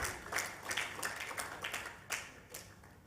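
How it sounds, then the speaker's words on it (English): Scattered clapping from a conference audience honoring a panel, faint and thin, with distinct individual claps spread through a few seconds rather than a full ovation. "can we give a big round of applause to this panel"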